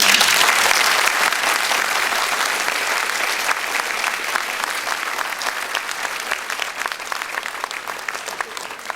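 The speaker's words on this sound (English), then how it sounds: "Let's give Adele a hand of applause." Audience at a spiritual gathering gives a round of applause, a dense, loud wash of many hands clapping continuously for about nine seconds, tapering slightly as it goes, with no talk over it.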